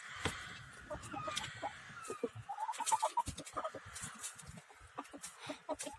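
Several chickens cluck and murmur close by in quick, irregular bursts, with soft rustling and scratching underneath.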